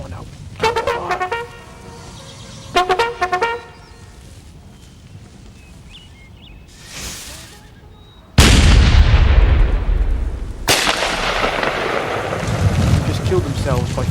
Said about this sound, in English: The sound effects of these guns coming in